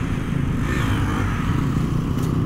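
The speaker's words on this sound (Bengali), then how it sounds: "আর এটা হচ্ছে V3-র এক্সজস্ট।" A V3 motorcycle exhaust on a group ride, a loud, steady rumbling drone heard close by without revving peaks and with no talking.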